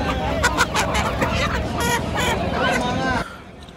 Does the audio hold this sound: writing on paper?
no